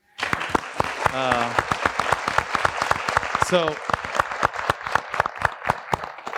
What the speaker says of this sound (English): a big round of applause should go to Ms.